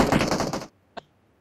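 A burst of rapid automatic gunfire in the PUBG Mobile battle-royale shooter, loud and close for about half a second, followed by a short silence and one sharp single shot.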